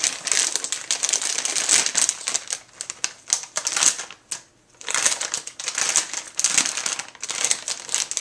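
Plastic piping bag edges are folded over by hand, giving dense bursts of close crinkling and crackling with short pauses between them.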